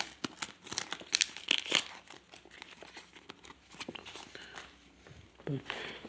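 Panini football sticker packets being torn open: close, busy crinkling and ripping of foil wrappers in bursts, with quiet voices in the background.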